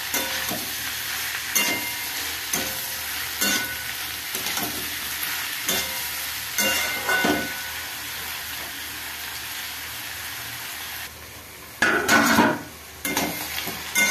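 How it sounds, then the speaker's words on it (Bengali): Onions frying in a pan until reddish, for a Deoghar-style mutton dish: a steady close sizzle broken by regular scraping stirs, with a louder burst of frying near the end. "পেঁয়াজটা লাল লাল ভাজা চলছে,"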